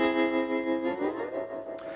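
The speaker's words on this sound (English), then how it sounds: "obviously trem, a little bit of spring reverb" Electric guitar through a Vox Cambridge amp with tremolo and a touch of spring reverb, a sustained chord pulsing in level and ringing out with a reverb tail, alone and up close.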